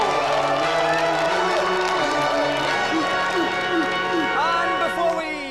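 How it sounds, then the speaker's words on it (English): A television game-show studio audience cheers, claps and shouts continuously and loudly after the final contestants are announced, with music and voices mixed into the dense crowd noise throughout. "So another round of applause for the two final contestants, Amar and Cecil!"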